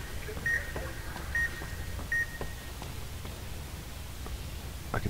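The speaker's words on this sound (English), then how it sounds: "I can't do anything if you're gonna beep everywhere." Robot beeping in the video game Fallout: New Vegas: several short steady electronic beeps, roughly evenly spaced over a low rumbling game background, fairly clear with no talk.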